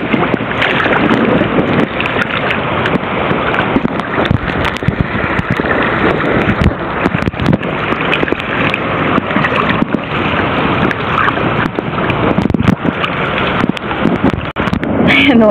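Oars splash and knock steadily as a small fishing boat is paddled across water, with wind buffeting the microphone and faint voices in the background.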